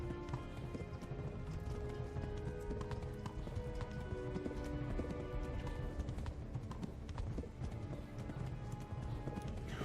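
Steady clip-clop of galloping horse hooves in Kingdom Come: Deliverance runs throughout, dense and rhythmic, layered over a busy synthetic game soundscape with faint background voices.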